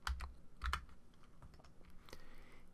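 Arrow keys on a computer keyboard tapped while shapes are nudged into position in CorelDRAW, a few quick soft clicks in small clusters, close but quiet, with no talk.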